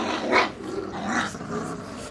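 Young puppies growl and snarl at close range while squabbling over a bone, with rising bursts of rough throaty growling and no talk.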